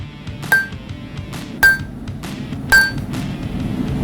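Three evenly spaced hammer blows on hot steel on an anvil while forging a knife, each a bright ringing clank that decays quickly, heard up close over low background noise.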